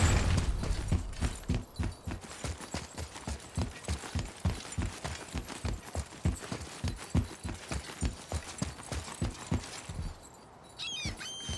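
Horse hooves clip-clopping in the video game God of War (2018), a quick, even, close beat of hoofsteps that runs steadily and then eases off near the end, with no talk.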